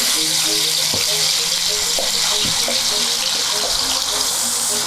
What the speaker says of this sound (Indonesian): ini minyaknya udah panas, kita masukin sambalnya